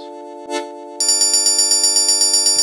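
FM synthesizer tone with added harmonics giving a bell-like timbre: a steady held tone, then a fast, even series of bright bell pulses, loud and close, with no voices.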